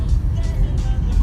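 A car drives along a road while someone hauls a load of wood back to a hardware store, heard from inside the cabin as a steady, loud low-pitched rumble of engine and road noise.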